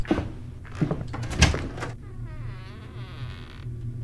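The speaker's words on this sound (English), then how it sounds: "The door just opened by itself." A door swings open by itself in the horror game Decadence, a low creaking groan followed by a thin wavering squeal that fades out, heard alone with no talk.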